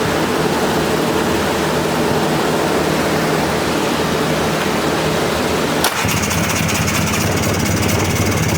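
A Polaris 400cc two-stroke ATV engine runs loud and close in a harsh, continuous roar with a steady rattling buzz, shifting abruptly in tone partway through as the throttle changes.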